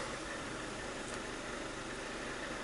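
A 2003 Mazda Protege engine idles with a misfire, a steady dense mechanical rumble with uneven low thumps running throughout, close and alone with no voices.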